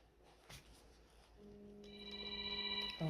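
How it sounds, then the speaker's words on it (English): A phone rings faintly in a quiet room, its electronic tone beginning softly and swelling louder over a few seconds, with a small knock or tap near the start. "Oh, it's my phone."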